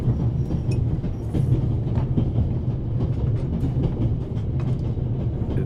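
Steady low rumble and rattle of a moving train carriage interior in The Raven Remastered, a continuous dense drone with faint clicking and metallic squeaks, no speech.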